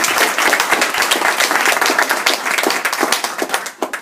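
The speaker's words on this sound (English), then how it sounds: "A round of applause again for that." Audience at a jazz band performance giving a round of applause after a tune, dense, close clapping from many hands that stays full and steady throughout before easing slightly at the end.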